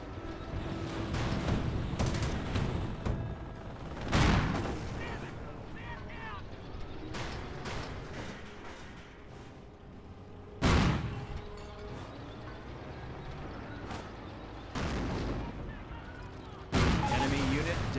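Sniper and rifle fire in the Company of Heroes strategy game: several sharp, separated loud cracks spaced seconds apart over a busy battle ambience, with a commentator talking throughout.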